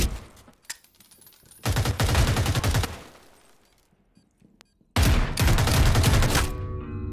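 Two loud bursts of rapid video game gunfire separated by a quieter pause with faint clicks and shuffling.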